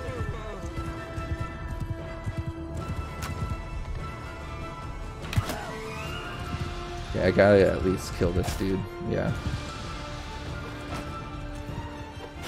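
Horse hooves clatter and a horse whinnies during a battle in the Mount and Blade Bannerlord video game, with game sounds busy throughout and someone talking over the action.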